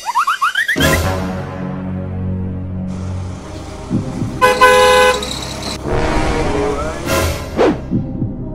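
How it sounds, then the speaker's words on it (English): A car horn honks in several short toots and one longer blast, loud and close, with engine noise and a brief voice in between. "Did you not hear the horn?"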